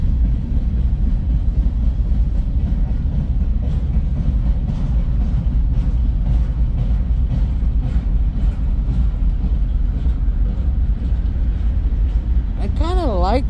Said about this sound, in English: I kind of like the sound of the train.